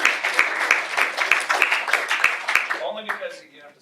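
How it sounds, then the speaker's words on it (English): Applause from an audience at a school district board meeting, honoring a bowling coach: a steady patter of many hands clapping at moderate distance, fading out near the end. "Yes, how about an applause for Coach?"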